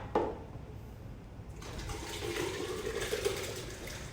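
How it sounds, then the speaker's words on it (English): Hot soup poured into a blender in a kitchen: after a brief clunk and a quiet pause comes a steady sloshing, gurgling pour that builds and continues for a few seconds, close and fairly soft. "we're going to take a blender and we're going to pour this soup into our blender"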